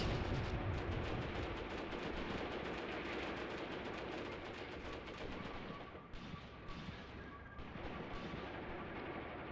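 Panzer IV tank main guns firing in a WW2 video game battle, a dense roaring barrage of gunfire and heavy blasts, loud and continuous, with rumbling rolling through the background.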